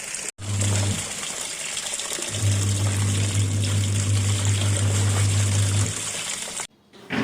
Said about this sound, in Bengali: আজকে অনেক জামা কাপড় বেরিয়েছে, তাই ভাবছি জামা কাপড়গুলো আজকে মেশিনেই ভিজিয়ে দিই।